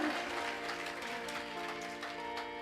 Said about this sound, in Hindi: ताली बजाओ तो ढंग से बजाओ